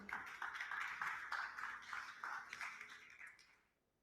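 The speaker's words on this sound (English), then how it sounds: "A round of applause, please." Audience applause welcoming the founder and CEO of Wise Worlds onto the stage at an open innovation hangout, a dense burst of clapping that holds steady for about three seconds, then thins and fades out.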